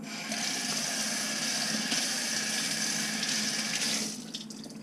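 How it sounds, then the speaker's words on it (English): Water runs from a kitchen tap as cilantro is rinsed beneath it, a steady close hiss and splash lasting about four seconds before it fades away. "I'm just going to rinse it first because you don't never know. Rinse it. Rinse that."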